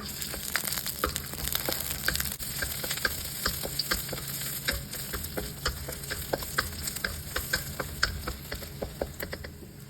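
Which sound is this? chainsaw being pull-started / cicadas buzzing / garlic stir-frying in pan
garlic stir-frying in pan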